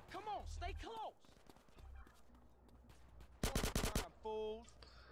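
An AK rifle fires a quick, loud burst of automatic shots during a Grand Theft Auto: San Andreas session, with game voices and sound effects around it and a short electronic tone after.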